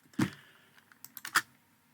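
Brief burst of a few quick keystrokes on a computer keyboard, close and quiet, with no voices.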